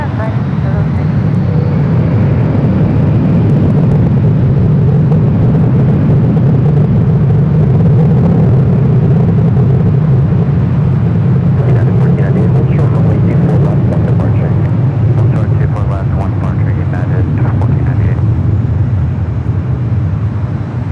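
A heavy airliner lands on runway 24 right at LAX, heard as a loud, sustained roar of jet engines and rushing air with rising noise midway, no talk over it.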